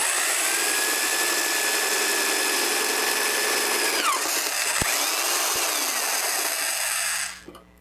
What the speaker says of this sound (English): Now I've put a 1/2 inch drill bit in, and I'm going to enlarge.